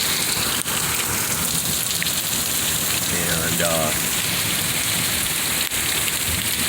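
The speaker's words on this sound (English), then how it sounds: "nice rainstorm coming in here" Heavy summer rain pours steadily in Utah, a dense loud hiss across the whole stretch, as a voice briefly speaks over it midway.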